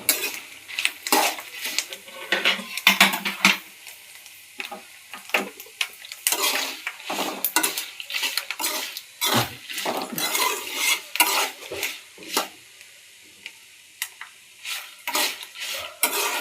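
Coriander seeds and spices roast in a pan, with a utensil scraping and clattering against the metal in quick irregular strokes over a constant dry sizzle, close and busy throughout.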